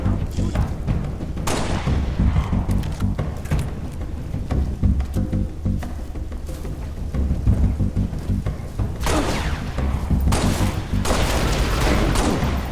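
Dense, loud gunfire from the Halo: Reach campaign on Legendary, with rapid bursts and heavy booming impacts layered continuously throughout, swelling into especially intense volleys near the middle and end.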